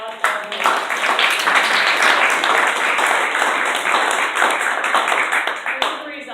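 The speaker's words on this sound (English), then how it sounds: "So big round of applause for everyone." Supporters clap and applaud at a winery gathering, a loud, dense burst of many hands that holds steady for several seconds before tapering off.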